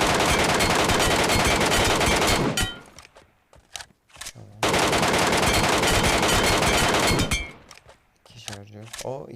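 Video game gunfire as two magazines are emptied, long dense bursts of rapid automatic shots, each cut off by reload clicks and clunks in the gaps, loud and close.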